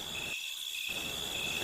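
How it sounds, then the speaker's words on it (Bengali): Crickets chirp at night in a steady, high, unbroken trill, fairly close and alone, with no other sounds. "চারিদিকে ঝিঝি পোকাগুলো ডাকছে।"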